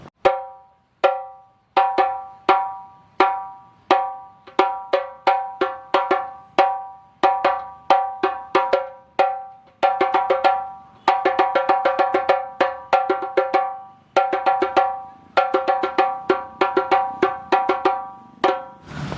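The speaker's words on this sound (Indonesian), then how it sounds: "seperti ini suara slap ya." Sharp, ringing djembe slaps struck repeatedly, first in a steady single pattern, then in quicker clustered bursts, loud and close with no talking.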